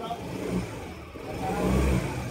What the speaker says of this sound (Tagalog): Lumandar na yung motor mo?